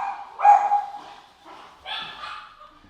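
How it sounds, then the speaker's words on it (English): Dogs indoors bark at a doorbell, two loud, close barks roughly a second and a half apart with whiny, yipping edges. "UPS decided to show up to the door and my dogs don't like the doorbell"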